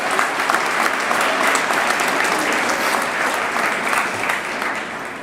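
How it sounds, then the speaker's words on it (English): Loud, sustained applause from a crowd at a high school football signing day fills the whole stretch evenly, with no talk heard. "let's give him a round of applause"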